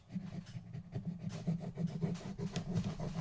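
A tool scores a fold line into paper, a faint, close series of quick rasping scrapes repeated in short back-and-forth strokes.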